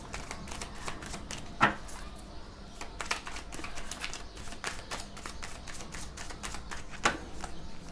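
Tarot cards being shuffled and drawn, heard as soft close papery rustling with a couple of sharper snaps or taps standing out.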